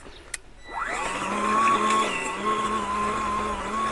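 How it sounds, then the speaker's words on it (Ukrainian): An Einhell GE-CR 18/20 Li cordless battery cultivator weeding a potato patch: a click, then the electric motor spins up into a steady, even whine that holds close and alone. "Її ще називають культиватор акумуляторний."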